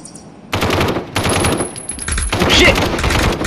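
Rapid automatic gunfire in the VR shooter game Aim XR: loud, close bursts of machine-gun fire in dense rattling runs with brief pauses between volleys.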